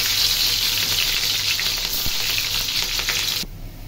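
Onion sizzling and frying in hot oil in a pan, a steady close crackle throughout that drops away sharply near the end.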